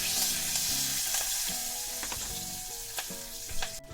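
Continuous loud sizzling of curry leaves dropped into hot oil, crackling and spitting, with occasional clinks of a utensil stirring in the pan.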